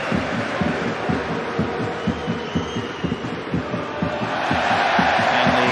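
Football crowd at a 2004-05 Premier League match between Blackburn Rovers and Manchester United, a dense stadium roar with a rhythmic, pulsing chant that swells louder toward the end.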